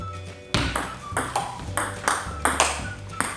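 A table tennis ball struck again and again in counter blocks during a blocking drill, giving crisp close pings at a steady quick rhythm with the bounces between them, fairly loud, with no talk.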